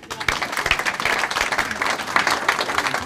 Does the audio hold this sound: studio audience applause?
yes